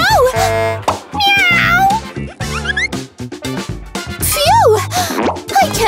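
A cat meowing repeatedly in a run of rising and falling cries, loud and close, mixed with other bright vocal sounds.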